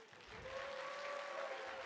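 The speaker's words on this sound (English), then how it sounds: "Give Kyle a round of applause if you think he should come back and call some races next year." Crowd applause at the 2025 South Boston Speedway awards banquet, fairly faint and distant clapping, joined partway through by a steady tone that hums underneath.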